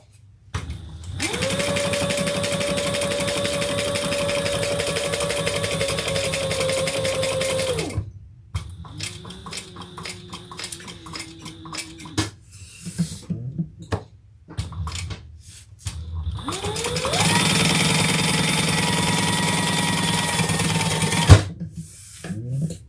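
A domestic sewing machine winds a new bobbin in long, steady whirring runs: a loud stretch of several seconds, a quieter intermittent middle section, then another loud sustained run, with no talking.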